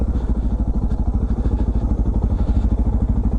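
Steady, loud engine chug of a dual sport motorcycle descending a high country trail at an easy pace with the front brake lightly on, a continuous close rumble with rapid regular pulsing and no talk.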